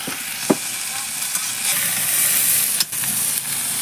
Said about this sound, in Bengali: এই যে সব রকম সবজি দিয়ে একটা তরকারি করছে